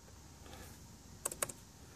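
A handful of quick computer keyboard key presses, close and crisp, clustered in a short burst of four clicks after a quiet stretch.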